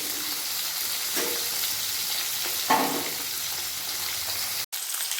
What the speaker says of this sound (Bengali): মাছের মাথাগুলো দিয়ে দিয়েছি এরপর ভালোভাবে ভেজে দেবো